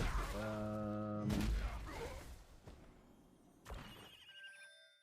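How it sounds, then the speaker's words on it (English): A phone's notification chimes sound during a gaming match broadcast: a stacked tonal ring at the start, then several short bright pings near the end. Other sounds overlap and the chimes are fairly faint. "my phone keeps going off"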